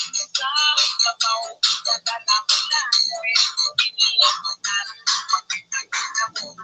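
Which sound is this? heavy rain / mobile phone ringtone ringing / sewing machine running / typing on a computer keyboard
mobile phone ringtone ringing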